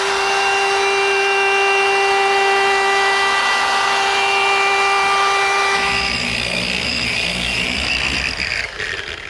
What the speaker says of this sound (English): a quick run over the edge with the sander